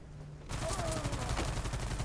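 Gunfire from the real-time tactics game Stargate Timekeepers breaks out after a half-second of quiet, a rapid loud burst of shots that keeps rattling to the end.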